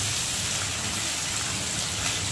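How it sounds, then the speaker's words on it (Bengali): Heavy rain pouring down outdoors, a dense continuous hiss of falling water with no gaps, moderately loud throughout. "বৃষ্টির আওয়াজটাও শুনতে পাচ্ছি, কত দূরে বৃষ্টির আওয়াজটা হচ্ছে"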